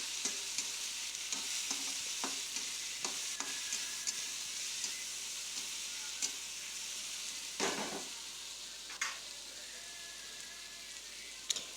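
Salt and turmeric are stirred into a frying pan with a soft steady hiss and repeated sharp spoon scrapes and taps against the pan, one stronger scrape midway, and no talking.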